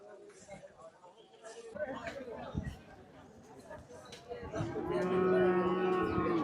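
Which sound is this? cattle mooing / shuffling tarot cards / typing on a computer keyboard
cattle mooing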